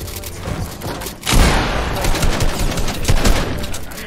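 Rapid gunfire in a shooting video game, dense bursts of automatic fire that surge suddenly after a quieter opening and stay loud and close throughout.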